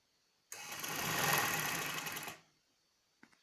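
A sewing machine runs in one steady burst of about two seconds while stitching a skirt belt, a fast, even whir that starts and stops abruptly, followed by a faint click.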